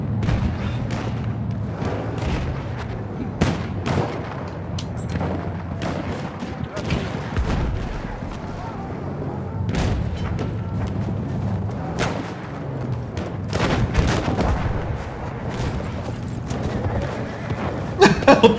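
Battlefield 1 battle combat with a tank firing: repeated sharp booms and gunfire bursts scattered over a constant low rumble, with a voice speaking over the action at times.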